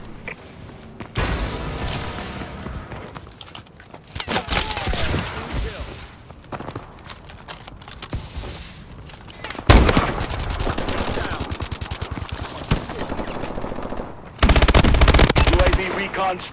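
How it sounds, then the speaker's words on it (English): A remote turret firing in the Call of Duty: Advanced Warfare video game, loud sustained bursts of rapid machine-gun fire broken by short pauses, with clanking mechanisms and occasional booms. "Remote turret ready for deployment."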